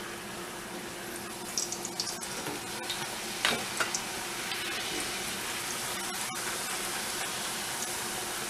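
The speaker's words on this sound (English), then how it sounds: "Once our oil is hot enough, we will start to fry our tortilla approximately 10 seconds on each side." Corn tortillas fry in hot oil for enchiladas, producing a steady, close bubbling sizzle throughout, broken by occasional clicks and scrapes as they are flipped and handled.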